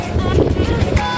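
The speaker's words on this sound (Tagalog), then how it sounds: "mahangin kasi may bagyo, guys." Strong, steady wind buffets the microphone on a Hong Kong beach at Hoi Ha ahead of a typhoon, a loud continuous roar with low gusting rumble throughout and no clear voice.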